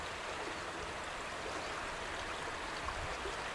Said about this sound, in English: Just down from the church, the River Bradford flows over a fording spot.